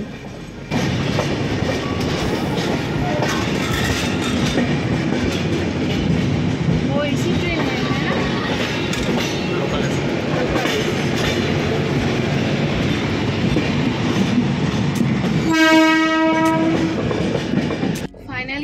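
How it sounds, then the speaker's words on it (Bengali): Mumbai local trains rush past on adjacent tracks with a steady clickety-clack and heavy rolling rumble, heard from aboard the Howrah–Mumbai CSMT Duronto Express; a loud, sustained horn blares close by near the end. "আমাদের পাশ দিয়ে অনেক মুম্বাই লোকাল অতিক্রম করছে"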